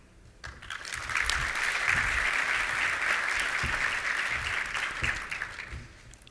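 A room of guests at a governor's reception applauds award recipients, a full, sustained burst of many people clapping that builds within the first second, holds steady, then begins to fade.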